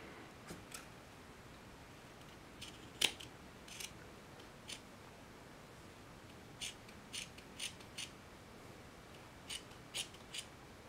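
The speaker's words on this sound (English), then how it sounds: "now I can just cut along where the edge of this other piece of fabric is to exactly mirror the seam that I've drawn" Scissors snip through plush-making fabric along a drawn seam line, giving quiet, crisp clicks at irregular intervals, alone over a soft background hiss.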